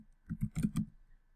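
Quick burst of typing on a computer keyboard, about five crisp key clicks in close succession, faint and alone in a quiet room.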